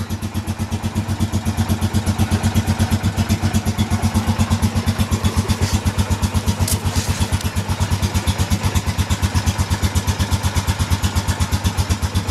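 A Honda Foreman ATV with a winch and about 1,500 miles on it runs close by after a cold start, its engine idling in a loud, even, rapid thump that holds steady throughout.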